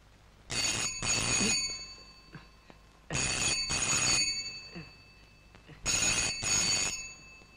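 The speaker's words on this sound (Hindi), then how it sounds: "टेलीफोन देखो।" Old-style telephone bell ringing in three bursts, each a double ring with pauses between, clear and fairly close with no talk over it.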